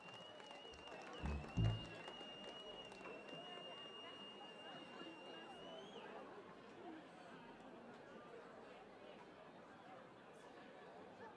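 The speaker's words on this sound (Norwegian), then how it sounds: "Bandet får en applaus." Audience applause for a band at a concert in Breim, a faint, steady patter of clapping with crowd chatter and a few louder thumps near the start, fading gradually.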